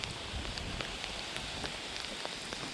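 Rain falls steadily outdoors beside a parked Toyota Corolla, a dense, even hiss with scattered drop taps, close and continuous with no voices.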